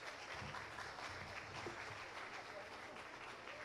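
Audience applause for a live band at a parliament design competition awards ceremony, continuous clapping held at a steady level with a voice speaking underneath.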